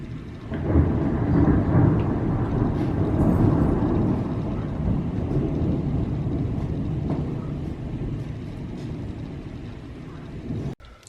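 Thunder from a regular thunderstorm rolls as a long, loud, deep rumble that swells early on, then slowly fades over about ten seconds, with faint rain beneath it.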